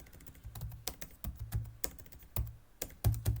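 Fingers type on a computer keyboard while writing Go code, a steady close stream of clicky keystrokes with occasional heavier key thumps.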